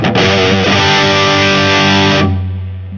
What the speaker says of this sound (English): It really is a distortion pedal that just wants to be rocked hard.